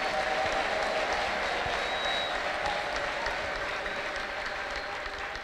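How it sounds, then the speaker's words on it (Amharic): A church congregation at a prophet's service applauds steadily throughout, a dense, even wash of clapping from a large crowd with faint voices mixed in. "ተነሱ ቁሙና አጨብጭቡ ሁላችሁም"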